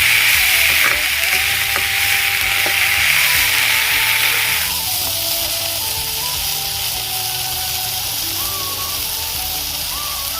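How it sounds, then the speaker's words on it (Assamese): Chopped dhekia fern greens frying in hot oil with onion and dried chillies, a steady loud sizzle with occasional stirring scrapes; the sizzle drops noticeably partway through and carries on more softly. "এতিয়া মই কাটি থোৱা ঢেকীয়াকেইডাল এইদৰে ভাজি দিম।"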